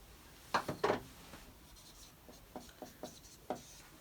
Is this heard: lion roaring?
no